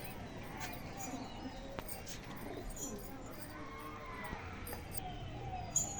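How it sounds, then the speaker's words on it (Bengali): Domestic pigeons kept in a loft coo softly in a quiet setting, with a few low, brief calls spread across the stretch and light background noise. "এই যে দেখুন পায়রা"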